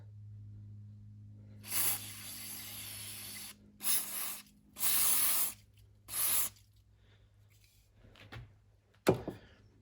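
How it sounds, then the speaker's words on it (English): Several bursts of aerosol brake cleaner hiss close by on a 1981 Honda XL125s motorcycle, short and long in turn, against a low hum, ending with a sharp clatter. "First, spray this all down."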